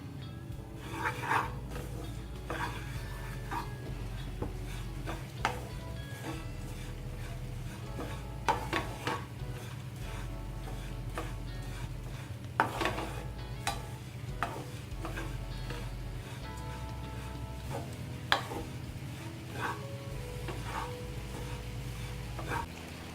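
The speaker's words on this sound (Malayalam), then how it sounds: "ഒരു ബ്രൗൺ കളറാവുന്നത് വരെ ഇതേപോലെ ഇളക്കി കൊടുക്കും." Oats dry-roasting in a pan for sugarless laddu are stirred with a utensil, giving a steady scraping and rubbing with light sizzle and rustle throughout, repeated strokes close by with no talking.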